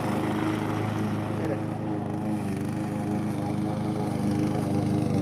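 A lawn mower engine drones steadily and close throughout, cutting carpet grass at a garden, loud and unbroken with no pauses.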